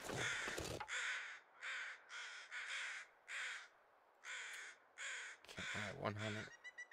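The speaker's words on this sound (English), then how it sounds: "Check and see what these crows are hovering around." Crows cawing in the snowy wilderness of the video game The Long Dark, a series of about ten harsh caws in irregular bursts, fairly close, with a brief voice mixed in near the end.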